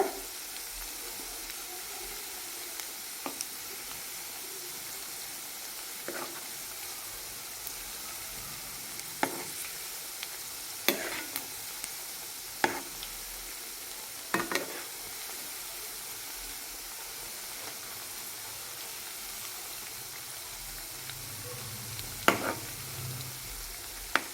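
Onion pakoda frying in hot oil, a steady low sizzle with scattered light clicks and taps as the fritters are turned one by one, no voices.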